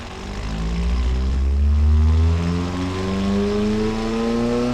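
A car engine with no muffler, built in the game Automation, drones loudly through its exhaust, pitch rising and falling with harmonic revs as it pulls through the gears, with no talking over it.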